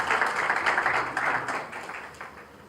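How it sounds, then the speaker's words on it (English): Audience applause at a singing event, a broad patter of clapping hands that starts full and gradually thins and fades toward the end. "A round of applause."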